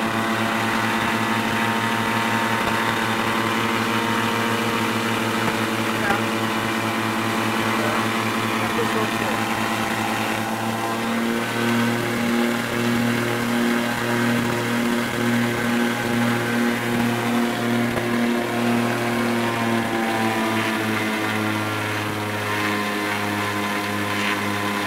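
A Cessna 414 twin-engine aircraft's turbocharged piston engine runs steadily with a loud, continuous harmonic drone. When the throttle opens partway through, its pitch and intensity rise, and no one speaks over it.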